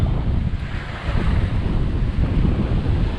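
Wind blows across the Andaman Sea during a fishing trip, a dense, steady rush of noise and buffeting against the microphone, with the wash of water underneath.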